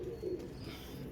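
Teddy pigeons kept for sale give a soft, low cooing close by, a steady murmuring coo running through the short moment.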